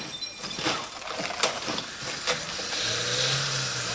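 A car races out balanced on its side during a film stunt, its engine roaring and revving loudly with rattling, scraping bursts before settling into a steady, rising drone.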